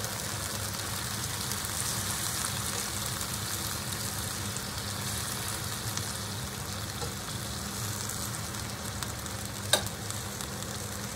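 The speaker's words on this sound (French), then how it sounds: "Je décolle les sucres de la poêle. Je réduis mon feu." Chicken sizzles loudly in a pan as its browned bits are scraped loose over lowered heat, a dense unbroken frying crackle with one brief sharp clink near the end.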